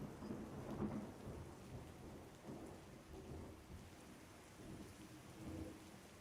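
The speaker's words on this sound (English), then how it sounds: "I can hear the background rain" Steady rain falls throughout, punctuated by low rumbles of thunder that swell and fade several times, all at a faint, distant level with no voices.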